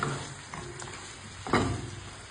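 Seasoned meat for honey adobo is stirred in a pan: a soft sizzle runs throughout, broken by a short, louder scraping stir near the end.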